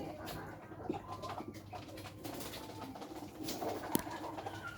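Soft cooing of pigeons nesting in their boxes, where several pairs sit on eggs, low and fairly faint with a steady murmuring background and a few scattered sharper noises.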